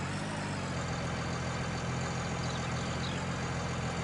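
A tractor engine in Farming Simulator 19 idles steadily with a low, even rumble that holds at a constant level throughout, with no voices.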